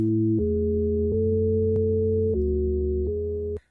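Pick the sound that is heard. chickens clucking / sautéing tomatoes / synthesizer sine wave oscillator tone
synthesizer sine wave oscillator tone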